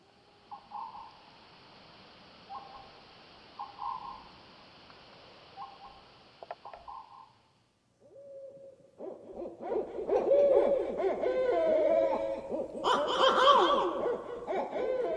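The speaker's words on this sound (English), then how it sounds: "owls make an interesting variety of noises" Owls hooting and calling: a run of soft, evenly spaced hoots over a faint steady hum, then a louder, busier stretch of overlapping calls, screeches and chattering notes near and far.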